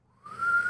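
A single whistled tone, faint at first and rising into a steady, clear pitch held for about half a second, close to the microphone with no talking.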